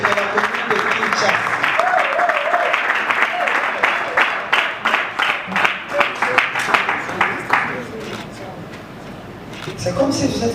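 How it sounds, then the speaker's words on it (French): Audience at an awards ceremony in Kinshasa claps, first a busy mass of applause under a speaking voice, then thinning into separate rhythmic handclaps before talk returns. "Il faut applaudir."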